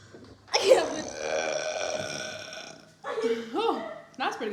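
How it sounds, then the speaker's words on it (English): A long, loud burp during a burping challenge rumbles for over two seconds, followed by voices talking and laughing nearby. "you gotta wait for me to burp"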